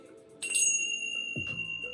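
Small bells ring in two brief bright jingles, each leaving a clear sustained shimmer, quiet and close with no talking over them.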